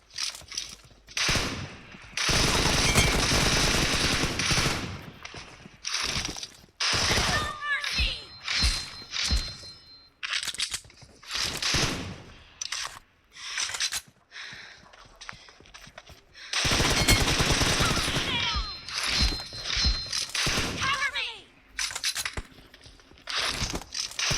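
Video game gunfire comes in repeated loud bursts of rapid automatic shots with short pauses between them, and a voice speaks faintly in places.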